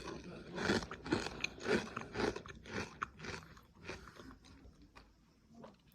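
Teeth bite into a square salt and vinegar crisp, followed by a run of sharp, close crunches and chewing that gradually soften, with no talking.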